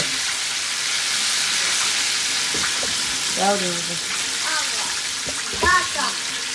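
Breaded chicken thighs frying in a pan, a steady loud sizzle running throughout with a few brief voice-like sounds partway through.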